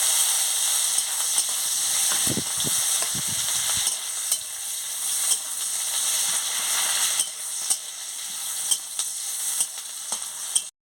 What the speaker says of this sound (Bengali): দিয়ে ভালো করে মশলাটাকে ভেজে দিচ্ছি